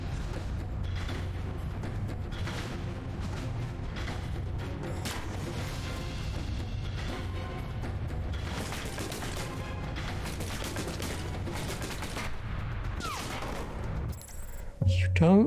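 Gunfire in the Alpha Protocol game: repeated shots and bursts crackle through a steady rumble of game noise, moderately loud, with a sharper clatter near the end.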